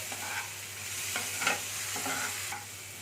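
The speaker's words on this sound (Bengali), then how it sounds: "টমেটোটাকে আমি একটু পেঁয়াজের সাথে হালকা নেড়ে নিয়েছি" Sliced onion and tomato frying in a pan are stirred, with a continuous sizzle broken by several sharp spatula scrapes and knocks, close by and moderately loud.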